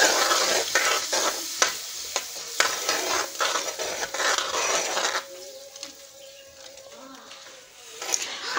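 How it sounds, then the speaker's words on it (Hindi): Mutton korma being stirred and fried in a pot, with steady sizzling and repeated scraping strokes for the first five seconds, then a quieter simmering hiss. "इसको अब हम अच्छे से भूनेंगे।"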